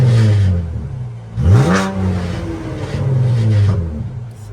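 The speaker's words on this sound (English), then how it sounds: "I get y'all some revs in this bit though." A Camaro RS engine revs up sharply, its pitch sweeping upward, then settles into a steady idle before another rising rev; close and fairly loud.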